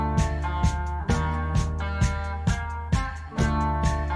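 Soul guitar sample, a steady rhythmic progression of plucked chords, with a regular beat-like pulse and full, warm tone.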